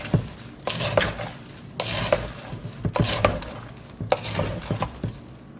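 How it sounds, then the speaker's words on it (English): Bread cubes and stuffing mix being stirred with stock in a crockpot, heard as repeated bursts of wet scraping and clunking against the pot, several rhythmic rounds close up with short pauses between them. "We'll give that a stir."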